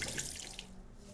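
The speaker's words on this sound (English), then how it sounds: "wash your hands using soap and water" A tap runs into a sink during handwashing with soap and water, a steady close splashing stream that thins slightly toward the end, with no talk.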